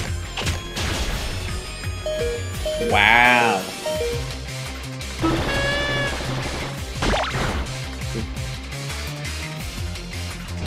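A cat Pokémon's cry in Pokémon Y, heard as loud, pitched, meow-like electronic calls over busy looping game music and battle effects, with someone talking over it.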